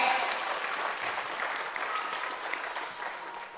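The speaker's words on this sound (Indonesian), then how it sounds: "Boleh tepuk tangan sekali lagi yang lebih meriah" Workshop audience applauding at a gambus music workshop, a steady, lively wash of many hands clapping throughout, close and continuous.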